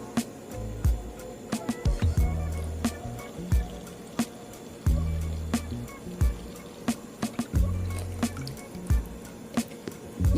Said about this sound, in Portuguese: Agora a gente coloca a nossa água azul.